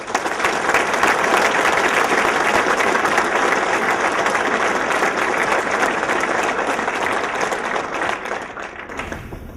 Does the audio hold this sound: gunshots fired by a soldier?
no